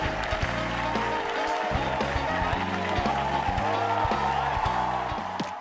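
A talk show studio audience fills the room with dense, continuous applause welcoming guests, while a steady pulsing music bed plays loudly underneath for the whole stretch.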